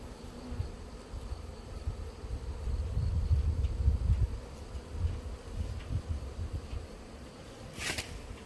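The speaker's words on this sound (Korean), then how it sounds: "앞뒤로 왔다 갔다 하면서 말벌을 잡고 있어요" Hornets buzz around honeybee hives in a low, wavering drone close by, swelling and fading as they fly back and forth, with a sharp bright click near the end.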